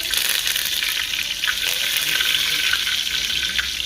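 Curry leaves sizzling in hot oil in a pot, a steady dense crackling fry that holds loud and even throughout, with a few sharper pops rising out of it and no voices.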